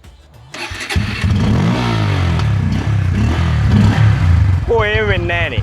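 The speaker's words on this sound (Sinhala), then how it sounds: "බයික් එක රේස් වෙන්නේ නැහැ" A motorcycle engine cranks and catches, then runs with a rough, clattering idle and some revving, loud and close, while someone talks over it.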